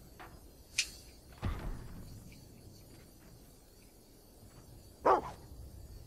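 Dog in the Fable II video game, a few sharp barks spaced apart over a quiet background of chirping crickets, moderately close with no talking.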